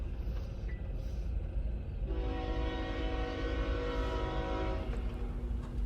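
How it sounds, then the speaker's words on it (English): Eastbound CSX freight train with two locomotives hauling auto racks on the Mount Victory subdivision near Greenwich, Ohio, rumbles steadily while its horn sounds one long blast, with wheel and rail noise underneath. "Here we have a train coming up the Mount Victory sub with some auto racks heading east out of Greenwich with 2 CSX locomotives."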